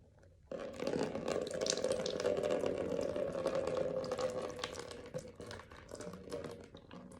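Water pours from a small lota spout during a nasal rinse, a steady soft trickle starting abruptly and running continuously, fairly faint and close.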